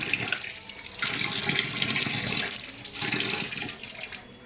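Water runs from a tap as something is washed by hand, heard as a steady, fairly close rushing and splashing that swells and eases in waves, with no voices.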